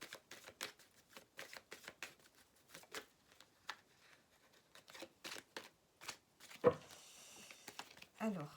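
Tarot cards are shuffled close by in short, soft riffling bursts with brief pauses between them, faint and crisp, with a slightly louder rustle near the end.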